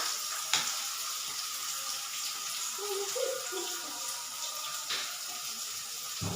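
Onions sautéing in a pan for pasta, with garlic already cooking, give off a faint, steady sizzling hiss and a couple of soft clicks, with no talking.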